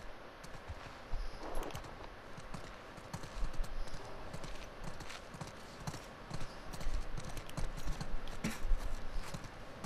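Horse hooves clip-clop steadily in The Last of Us Part II, a dense run of soft, fairly close hoofbeats over an ambient background, with faint bits of talk.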